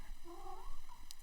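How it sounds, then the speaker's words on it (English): A pet cat gives a short, close meow with a rising and falling tone, followed by a faint chirp, lasting just over a second. "This is my cat."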